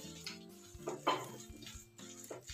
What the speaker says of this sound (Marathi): कोथिंबीर देखील मिक्स करून घेऊ